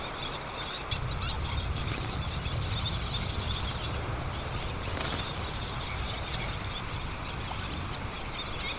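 Little terns scuffle over nesting territory on a sandbar, their wings flapping hard in a steady, close, continuous flurry with brief sharper bursts, set against constant outdoor background noise.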